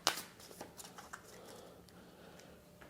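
A deck of board game cards is shuffled with quick papery riffles and flutters, a few sharper snaps standing out in the first half before the rustling settles into softer sliding, close and fairly quiet.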